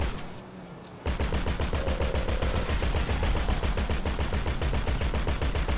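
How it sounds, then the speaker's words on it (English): Rapid automatic gunfire in Grand Theft Auto V online free roam, a loud dense burst of shots that starts abruptly after a brief lull and continues nearly nonstop, with no talk. "One shot, one kill."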